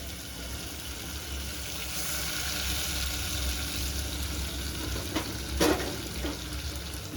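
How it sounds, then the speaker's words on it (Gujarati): Tuvar dal is poured into a hot mustard-seed tempering, a vaghar, in a pan. It gives a steady, loud sizzle and crackle throughout, with a brief sharper burst near the end. No voices are heard. "પછી આપણે હવે એમાં દાળ નાખીશું વઘાર માટે"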